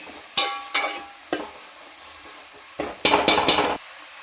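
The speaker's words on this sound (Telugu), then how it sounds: "ఉల్లిపాయలు ఒక మూడు పెద్ద ఉల్లిపాయలు కోసుకున్నా ఇవన్నీ వేసి ఇలా కలుపుకుందాం" Chopped onions, three large ones, are stirred in a cooking pot with a metal spoon, bright scraping clanks in a short series, then a quick burst of rapid scrapes, close and clear with no talk.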